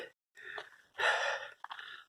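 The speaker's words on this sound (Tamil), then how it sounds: "சுத்தமாக முடியல, மூச்சு வாங்குது, ஆக்சிஜன் லெவல் கம்மி ஆகிட்டே இருக்கு" Harsh, heavy breaths come close to the mic from a trekker short of oxygen on an icy high-altitude Himalayan snow trail, a few ragged gasps and exhales separated by brief pauses.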